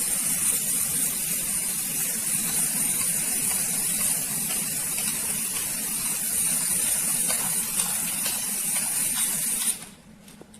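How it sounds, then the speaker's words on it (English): An aerosol can sprays white contrast paint onto a metal surface for magnetic particle testing in one long, steady hiss lasting about ten seconds, close and loud, then cuts off abruptly. "So now I'm going to spray it on the surface."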